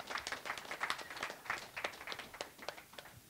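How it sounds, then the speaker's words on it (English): An audience at a panel discussion gives a short burst of clapping, with scattered individual claps audible and a loose, uneven rhythm that swells and thins over a few seconds. "That deserves a clap."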